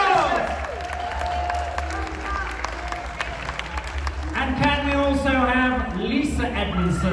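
Festival crowd applause in a tent at Deer Shed Festival, broad steady clapping running under someone speaking over a PA, with low hum beneath and a few cheers rising near the end.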